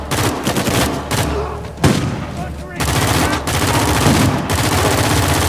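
Dense automatic rifle fire from an ARX 160 in the video game Uncharted 4 on PS4 Pro, loud and nearly continuous for several seconds, broken by a few brief gaps with overlapping bursts and impacts.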